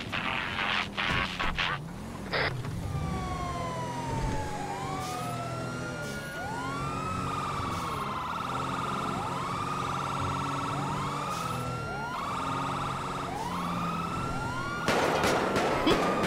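An emergency vehicle siren in a video game wails continuously, rising and falling in long sweeping cycles, loud and steady throughout, with a burst of extra noise near the end.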